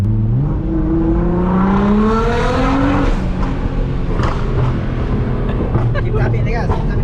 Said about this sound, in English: Keep tapping the gas, keep tapping it. Bro, I mean, we're popping.